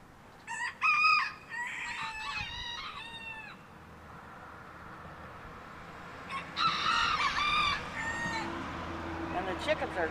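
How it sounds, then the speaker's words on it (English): A rooster crows twice with a few clucks between, fairly close, over a steady outdoor background hum. "the chickens are a little overly happy today too"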